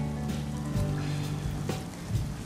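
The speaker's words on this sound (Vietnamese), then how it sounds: "Còn bây giờ trời mưa." Rain falling outdoors during an eel-fishing outing, a steady moderate patter with scattered louder drops and faint low background noise, no voices.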